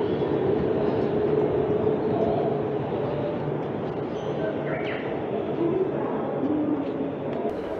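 Keisei Main Line limited express train running from Narita Airport toward Tokyo, heard from inside as a steady, moderate rumble with rail noise and occasional brief squeals, no voices.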